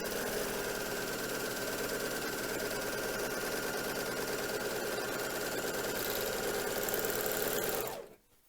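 A Janome Magnolia 7034D serger stitches fabric with its tension raised. A loud, steady mechanical whirring runs for about eight seconds, then stops abruptly.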